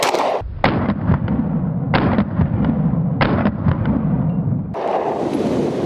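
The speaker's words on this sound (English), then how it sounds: "first 3 rounds are going to be some 124s." Three close, loud 9mm pistol shots from a Glock G43X firing 124 grain rounds on an outdoor range crack out at roughly one-second intervals, each with a sharp echoing report over a steady background rumble.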